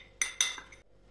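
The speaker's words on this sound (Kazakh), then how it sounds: "Өйістіп жақсылап араластырып аламыз балық қууға." A utensil clinks against a bowl while a dry fish coating of flour, paprika and corn starch is mixed: two or three quick, bright metallic taps within a second, close and clear, then quiet.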